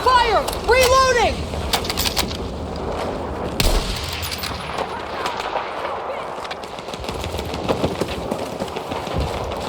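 Rapid automatic gunfire and scattered explosions from the Battlefield 6 (2025) campaign mission 'The Rock', with dense bursts and a heavy boom in a loud, continuous firefight.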